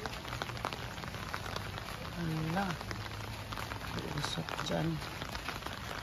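Rain falling steadily in a soft hiss while a person speaks briefly over it.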